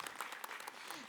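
A mosque congregation claps briefly and faintly, a short burst of scattered applause from a crowd with no distinct talk over it.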